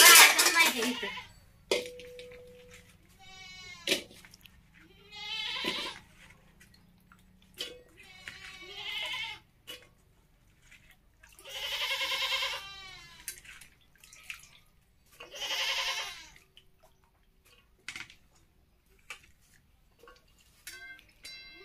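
Goats newly brought home bleat several times in wavering, drawn-out calls, fairly close, with gaps of quiet and some talking between them.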